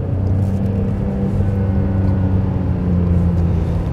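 Ferrari 599 GTB Fiorano, a 2008 car with a six-speed manual gearbox, driving along a country road, its engine a deep steady rumble heard from inside the cabin, constant and loud without changes in revs.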